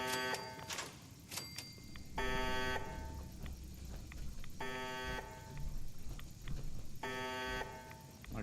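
Repeating electronic alarm buzzing in the video game Fallout 4, four loud harsh pulses separated by gaps, with faint background game noise between them and no talk.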